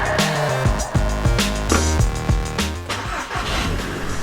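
An Audi TTS 8J, fire-damaged and fitted with a new battery, cranks in repeated rhythmic bursts and catches, its engine turning over loudly and close for several seconds without speech.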